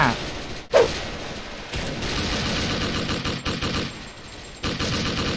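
Rapid bursts of SIG551 rifle fire in the online shooter Special Force, loud and close, with short pauses between volleys and background game noise throughout.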